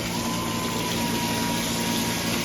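A self-priming water pump runs steadily under pressure, with a dense, even motor whir and rushing water. Loud and continuous throughout with no talk.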